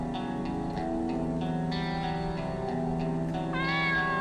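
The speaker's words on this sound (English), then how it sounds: "Can I pet the kitty again?" A petted cat meows several times in a video game testing chamber, each call drawn out and tonal, washed in reverb and echo, heard clearly with no talking.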